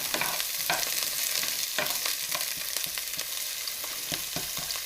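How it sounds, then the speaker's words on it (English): Green peppers and onions fry steadily in a pan for sloppy tofu, a continuous close sizzle with crackles and occasional stirring scrapes, no voices. "You're gonna cook these up for about 3 to 5 minutes till the onions start getting translucent."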